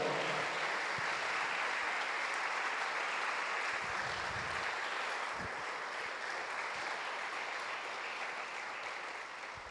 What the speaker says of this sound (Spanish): Dele el aplauso fuerte al Señor